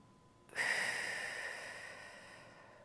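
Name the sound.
slow breathing exercise, inhaling and exhaling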